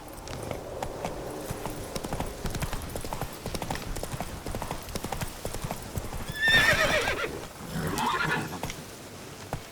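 Roach, a horse in The Witcher 3 video game, gallops with steady rapid clip-clop hoofbeats throughout, and a loud whinny bursts out near the end over ambient game sound.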